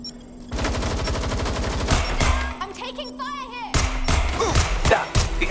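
Rapid bursts of automatic gunfire from a Watch Dogs Legion firefight, loud and dense, with repeated volleys, thuds and explosive impacts layered over a steady game soundtrack.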